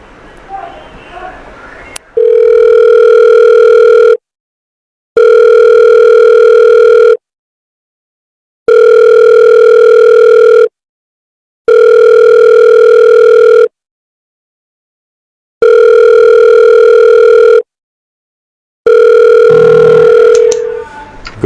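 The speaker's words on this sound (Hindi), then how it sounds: "so let's call doctor Liam" Phone call ringing tone repeating in long steady tone bursts separated by silent gaps, loud and close, with talk briefly before and after.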